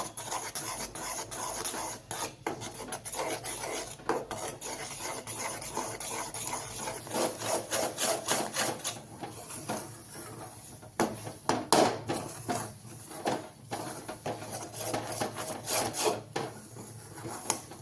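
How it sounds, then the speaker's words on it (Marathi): Sifted besan, or gram flour, stirred in a pan over medium heat for Mysore pak gives a close, continuous scraping and rasping with uneven strokes throughout. "एकसारखं मिक्स करत राहायचं"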